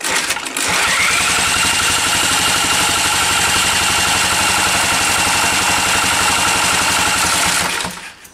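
An old mystery engine with a damaged governor is spun over by hand, giving a loud, close, rapid mechanical chatter that runs evenly for several seconds before dying away.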